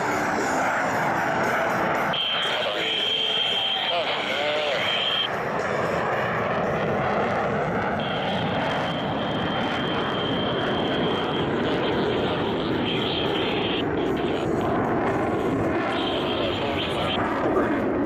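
Blue Angels jets, eight engines together, thunder overhead during an air show, a loud sustained roar that swells and holds, with high whining tones rising and falling as the formation passes.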